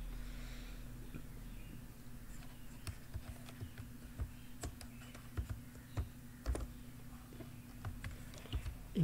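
Someone types on a computer keyboard while filling in an ID card layout in Word. Quiet, close keystrokes come in irregular bursts over a low steady hum.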